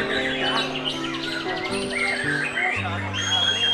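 White-rumped shama (murai batu) sings varied, rapid chirps and whistled phrases close by, mixed with someone talking and other background noise throughout.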